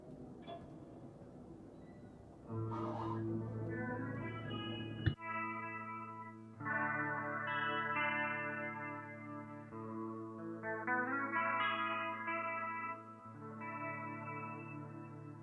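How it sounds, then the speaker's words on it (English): An electric guitar playing sustained chords and notes with a clean, warm tone and a little chorus shimmer, alone with no voices. "The first is the electronic guitar, the original sound."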